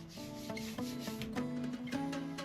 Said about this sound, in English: So I've just finished sanding to 120 grit.